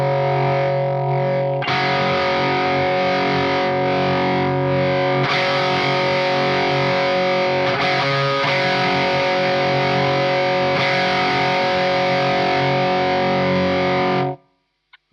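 Guitar through a Warm Audio overdrive pedal set to hard clipping: a quieter opening strum, then sustained crunchy chords ring out thick and gritty for over ten seconds before cutting off, with no talking.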